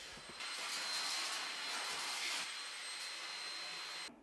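A household vacuum cleaner with its small handheld attachment removed and in use runs close by, giving a steady hissing whoosh with slight changes in suction. It shuts off abruptly at the end.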